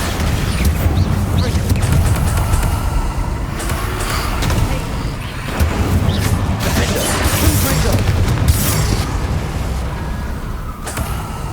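Bombarda blasting spell in Hogwarts Legacy: a loud, continuous game-combat soundscape of booming impacts and crashing debris with sharp bursts around two, five and eight seconds, dense low rumble throughout.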